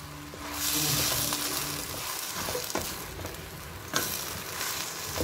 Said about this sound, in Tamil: இப்போ பூசணிக்காய் போட்டுட்டு ஒரு ரெண்டு நிமிஷம் நல்லா வதக்கிடலாம்